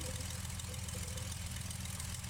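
A Cessna 182 piston engine taxiing toward the runway in Flight Simulator X, a faint, steady low idling drone with a slight pulsing throb, heard alone.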